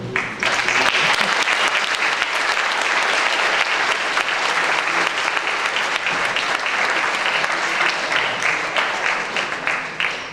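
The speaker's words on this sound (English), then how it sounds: "Please join me in a round of applause for the teachers, friends, and family" Sustained, loud applause from a graduation ceremony audience honouring teachers, friends and family, dense steady clapping that fills the whole stretch with no talk over it.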